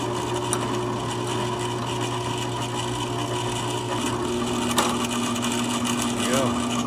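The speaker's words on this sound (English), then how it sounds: "drill a hole through the side to intercept that breather hole" Electric drill boring a hole through the side of a small block for a vented dipstick on a John Deere 1025R tractor, a steady close whirring drone throughout with a brief louder bite near the end.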